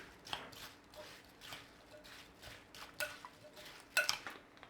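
Quiet, irregular clinks and taps of a utensil against a bowl as a cornstarch slurry is stirred in, repeated every half second or so, with a sharper knock near the end.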